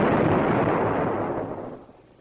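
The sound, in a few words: hot water tank exploding from superheated water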